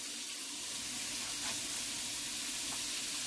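Steak fries in a pan with a soft, steady hiss and crackle, faint and continuous throughout with no speech.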